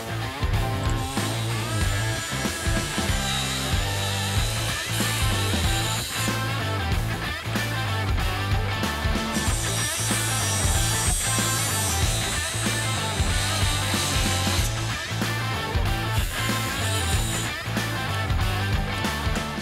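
Diamond disc cutting wood, a continuous loud grinding and rasping roar with a steady buzzing drone that holds unbroken for about twenty seconds.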